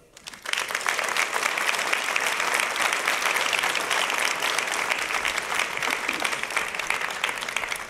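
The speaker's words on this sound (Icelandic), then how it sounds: "ég held að við ætlum bara að fá að klappa yfir þessu ágæta fólki þetta." Audience applause at an Icelandic seafood industry annual meeting rises quickly after a brief quiet start into sustained, even clapping from a large crowd, moderately loud and steady to the end.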